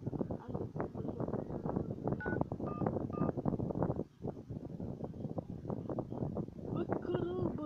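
A telephone number being keyed in to call the police, a few short dial tones pressed in quick succession, faint under a noisy, rushing background with a wind-like rumble.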